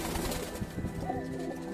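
A pair of Aparajita Madrasi pigeons in a pen gives soft, low cooing, close and murmuring, in a brief continuous stretch with faint background noise.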